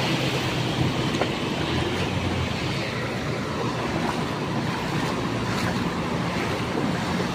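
Continuous rushing, surging floodwater noise with a steady roar, waves of typhoon floodwater splashing against a passing vehicle on a flooded road, no clear voices.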